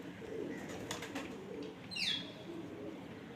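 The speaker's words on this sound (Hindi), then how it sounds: "ये इंडियन कबूतर है" An Indian pigeon coos softly at close range, a few low murmuring notes, with a brief sharp chirp and light rustling around it in a quiet setting.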